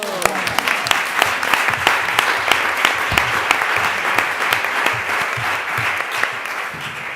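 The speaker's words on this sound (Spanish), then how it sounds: "Otro aplauso." An audience at a panel discussion on women film directors claps steadily, a moderately close patter of hands with individual sharp claps cutting through the rhythm.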